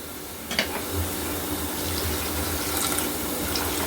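Water is poured into a cooking pot for an egg korma, a steady, close, continuous rushing splash of even loudness lasting several seconds without any talk.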